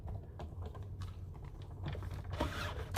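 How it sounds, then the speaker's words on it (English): A die cutting machine pressing through card stock for a fold card, giving a steady low mechanical rumble with light clicks and a brief louder crunch near the end, no talking. "Die cutting, we are die cutting."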